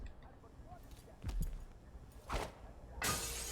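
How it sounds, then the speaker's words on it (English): Glass shattering in a video game, a bright crash with a noisy burst near the end, following a couple of thumps and brief scuffs at low level. "you want me to shatter the glass?"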